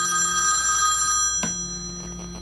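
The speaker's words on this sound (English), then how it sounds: "you should be able to hear my other phone ring." A telephone rings with a steady electronic bell tone, moderately loud and close, sounding by itself with no voices over it.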